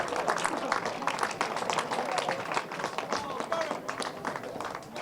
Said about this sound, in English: A big, huge round of applause, please, then, for your Rotax 177 British O-Plate finalists.